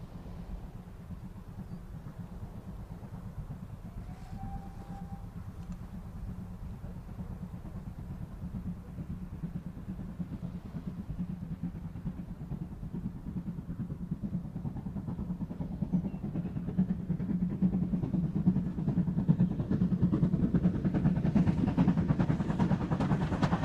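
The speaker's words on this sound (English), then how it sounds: "The bark of the exhaust was music to the ears when the engine, normally kept on the Severn Valley Railway, went to the West Somerset" A steam locomotive normally kept on the Severn Valley Railway, a mixed traffic engine, works along the West Somerset line. Its exhaust beats form a steady rumbling chuff that grows gradually louder and nearer over the clip, with no voices.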